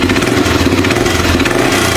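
A BMW F650CS Scarver motorcycle engine running at a steady, loud, rumbling idle, close by and continuous for the whole stretch.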